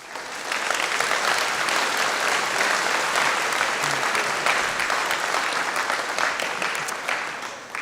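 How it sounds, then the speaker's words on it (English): An auditorium crowd applauds the Coal Bowl organizers at an opening ceremony, dense sustained clapping that stays loud and even throughout, with faint crowd murmur beneath. "they really deserve a round of applause"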